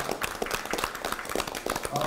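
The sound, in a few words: applause for the four candidates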